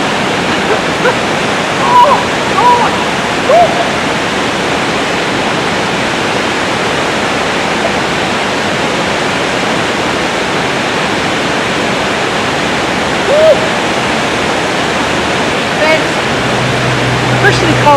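A waterfall in a former local swimming pool, set in the Tablelands above Cairns, roars as a steady, loud, close wash of falling water, with a few faint voices now and then.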